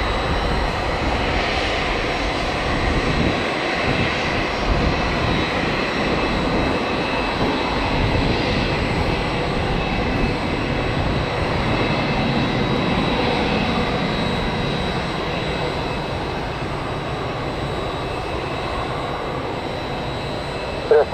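Engines of an Osprey tiltrotor aircraft at an airport, heard as a steady, loud broadband roar and drone held throughout with no break.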